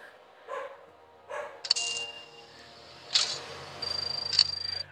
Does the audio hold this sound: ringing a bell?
no